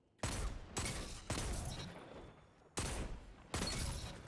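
Rampage auto rifle in Destiny 2: Beyond Light firing five sharp bursts, each a loud crack trailing off in rapid rattling shots, separated by brief pauses.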